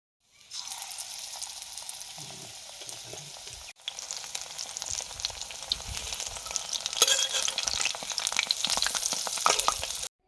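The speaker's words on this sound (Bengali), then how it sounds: "তেলও বেশ ভালো মতো গরম হয়ে গেছে। এবারে বেগুনি দিয়ে দেব।" Sliced eggplant fritters (beguni) sizzle and crackle in hot oil in a kadai, a dense, steady frying hiss after a brief pause, growing slightly louder toward the end.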